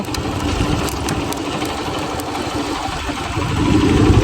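Motorbike engine running steadily on an off-road trip from Jhapa to Ilam, a continuous close, loud mid-pitched drone that swells slightly toward the end.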